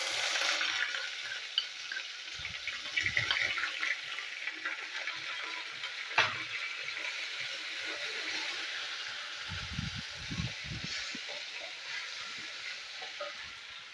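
Ginger paste and asafoetida fry in a pan with a bright, steady hiss, joined by occasional scraping stirs and a single sharp knock, close and without voices.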